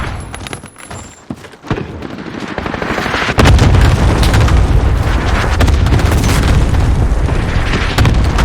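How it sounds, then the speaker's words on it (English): Cluster strike explosions in a video game: after a quieter start, a loud, continuous barrage of deep booms and rattling gunfire-like blasts sets in and keeps rolling without a break. "Allied cluster strike incoming."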